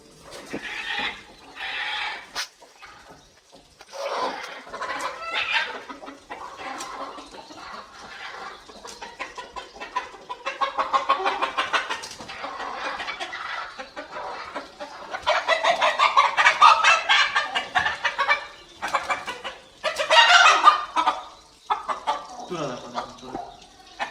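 Bursts of clucking and squawking from a rooster come and go nearby, with a person speaking in between the calls.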